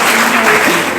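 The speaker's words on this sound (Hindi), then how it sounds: "इस बात के लिए एक बार जोरदार तालियां बजा दीजिए।" Audience applause at a Hindi comedy poetry gathering (kavi sammelan), a dense, steady wash of clapping throughout, close and loud, with faint voices mixed in.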